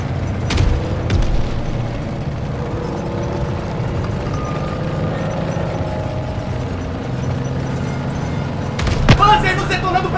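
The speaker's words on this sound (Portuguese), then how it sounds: "Panzer nos detonando pela direita! Tanque à direita!" Panzer tank shelling explosions in a Call of Duty WWII battle, heavy booms landing amid continuous rumbling combat noise, with a louder blast near the end and voices talking throughout.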